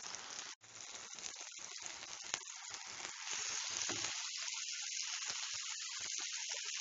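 Reshmi kababs fry in a pan with a steady, fairly quiet sizzle that runs unbroken and alone throughout, with scattered small pops and crackles.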